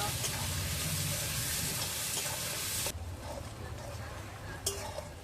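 Sliced onions fried and stirred in a pan until reddish: a loud, steady sizzle with spatula scraping, which drops to a quieter hiss partway through, followed by one sharp clink near the end.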